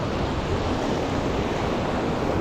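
Big ocean waves crash and wash onto the shore at a shore-casting fishing spot in Maitum, Sarangani Province, a loud, continuous roar of surf mixed with wind.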